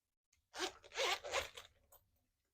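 A Pin It Up Duece Coupe double zip wallet has its pocket zipper pulled in a few quick close strokes, a soft ripping zip that fades at the end, heard alone.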